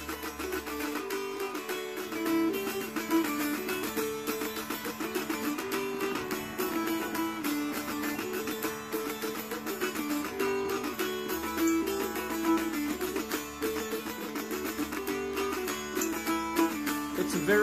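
A mountain dulcimer strummed with a guitar pick plays a steady rhythmic tune, soft and quiet, with repeated bright strums over droning strings throughout.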